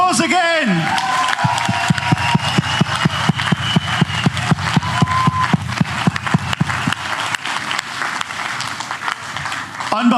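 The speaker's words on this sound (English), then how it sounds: "Let's give him a round of applause again" A crowd at a DA party event for the eThekwini mayoral candidate breaks into loud rhythmic clapping in unison, a fast even beat that runs for several seconds before loosening. It follows a brief amplified voice and fades into scattered claps.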